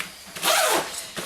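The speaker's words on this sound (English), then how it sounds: "Zip that up so it stands up." Zipper on the wheel compartment of an EVOC bike bag pulled closed in one quick rasping stroke, close and clear, followed by a short second tug.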